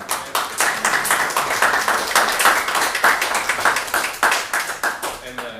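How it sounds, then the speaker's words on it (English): Applause from the audience at a village board of trustees meeting: steady, fairly loud clapping from a small group, with overlapping voices. "I think we should all give them a round of applause."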